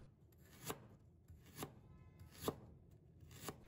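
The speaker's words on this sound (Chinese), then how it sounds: "再准备1块去皮的生姜，将它切片" A knife slices peeled fresh ginger on a cutting board, four separate chops spaced about a second apart, fairly quiet and close, with no talking.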